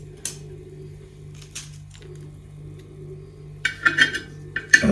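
An old tawa griddle is scrubbed and washed by hand, giving sparse metallic clinks and short scraping knocks, close and fairly quiet at first, then a quicker cluster of sharper clatters near the end, with no talking.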